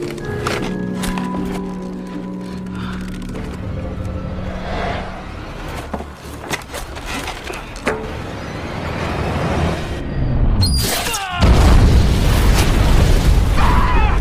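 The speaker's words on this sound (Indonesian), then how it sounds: "ada benda yang memicu saklar dinamit itu jatuh dan meledakkan seisi ruangan" A dynamite blast tears through a room in a film: a loud, heavy boom erupts near the end, with broad rumbling debris after busy, clattering action sounds.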